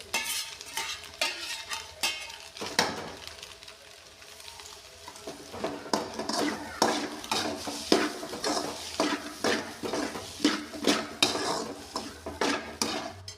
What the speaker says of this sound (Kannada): ತರಕಾರಿ ಏನು ಉದ್ದಿಟ್ಕೊಂಡಿದ್ವಲ್ಲ ಎಣ್ಣೆಲಿ ಫ್ರೈ ಮಾಡಿಟ್ಕೊಂಡಿದ್ವಲ್ಲ ಅದನ್ನು ಹಾಕ್ಬಿಡಿ